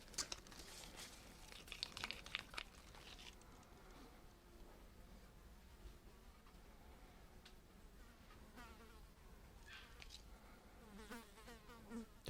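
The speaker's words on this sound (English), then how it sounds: "Got a crazy fly buzzing me at the moment." A housefly buzzing around someone at an art table, faint and intermittent as it darts near and away, with light crinkling and rustling in the background.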